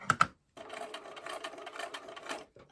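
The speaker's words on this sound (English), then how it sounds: "I'm going to start maybe a thread over from that intersection and sew to this dot and stop" A sewing machine stitches a star quilt block, with two quick separate clicks, a short pause, then a steady run of rapid mechanical stitching that stops near the end, close and fairly quiet.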